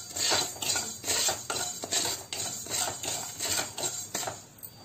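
Nigella and fenugreek seeds dry-roasting in a pan for a green chilli pickle, with a steady run of scraping and clinking spoon strokes against the metal, close and moderately loud throughout.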